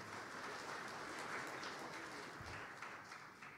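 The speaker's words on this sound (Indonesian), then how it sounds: "mari kita tepuk tangan buat Bapak Menteri kita." Applause for a government minister at a Christmas celebration held by Indonesia's Ministry of Marine Affairs and Fisheries, a steady wash of crowd clapping sustained for several seconds.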